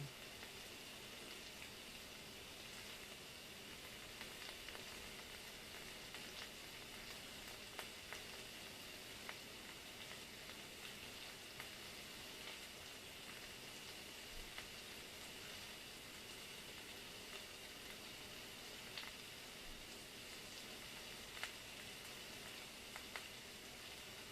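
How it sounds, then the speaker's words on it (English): Faint, even sizzling from a pan, a soft continuous hiss with scattered tiny pops throughout, no voices. "Sizzling"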